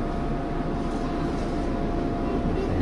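An old-style train in Japan runs with a steady, loud, continuous low rumble that stays even throughout, with no voices present.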